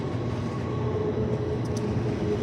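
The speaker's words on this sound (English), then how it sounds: "Train over there for the first time in 22 months." Passenger train on the Ellenbrook Line at a station platform, a loud, steady rumble with a faint whine, close and continuous, heard alone without talk.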